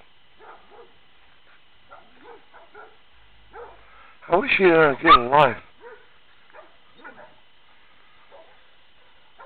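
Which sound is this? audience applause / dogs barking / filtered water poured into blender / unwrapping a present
dogs barking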